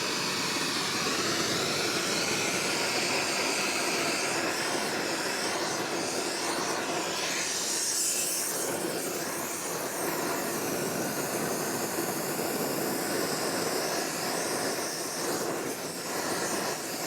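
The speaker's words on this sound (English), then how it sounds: "we're gonna go ahead and get this guy warmed up using our oxy torch" An oxy-acetylene torch heats a steel gear pawl from a 111-year-old arbor press, producing a steady, close, loud roaring hiss that holds unbroken for the whole stretch.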